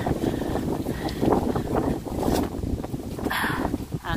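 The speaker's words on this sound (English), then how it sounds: "The wind coming in off there." Wind blowing in off the water at an old church, graveyard and castle site, loud steady gusting and rumbling against the microphone that keeps on without a break.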